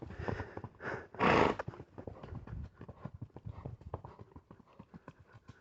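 A horse being ridden in a training session beats out steady, close hoofbeats in a regular rhythm, with a brief burst of rustling noise early on before the footfalls continue alone.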